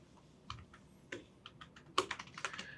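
Keys tapped on a computer keyboard in short irregular bursts of clicks, close and fairly quiet, with a denser flurry near the end; no voices.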